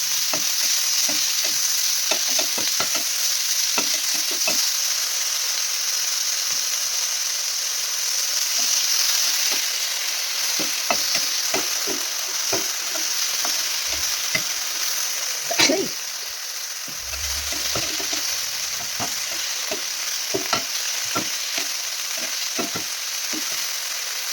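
Pork stir-fries with ridge gourd, garlic and chili in a pan, a steady close sizzle broken by frequent scraping and clacking of a spatula, with brief voices now and then.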